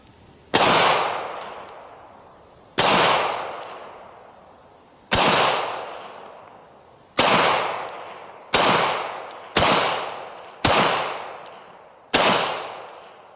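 Walther P38 pistol fired at a target, eight sharp loud shots spaced unevenly, each with a ringing outdoor decay, and no talking between them.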